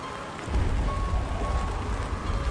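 Heavy rain falls with strong wind on Mount Lompobattang in South Sulawesi, a dense steady hiss that swells after a quiet opening and keeps going without voices.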